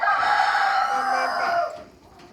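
A rooster crows loudly and close on a family farm, one sustained call lasting under two seconds before trailing off into quiet background with hens nearby.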